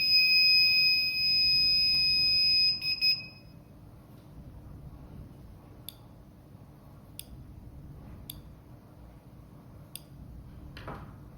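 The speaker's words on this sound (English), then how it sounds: "If successful, the buzzer beeps twice" A loud electronic buzzer tone from a TC Mini control board sounds while registering a sensor, holding for a few seconds before a short second beep, then only faint clicks remain over a quiet hum.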